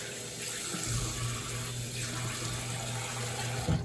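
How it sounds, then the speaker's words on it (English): A cleansing brush head rinsed under a running bathroom tap, a steady close splash of water that continues unbroken with no talk. "Rinse my little brush head off."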